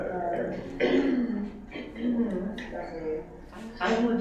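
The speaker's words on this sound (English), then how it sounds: "I'm legitimately clearing my throat." Several bursts of throat clearing during a student executive board meeting, arriving in three or four rough pulses close to the microphone, with speech in between.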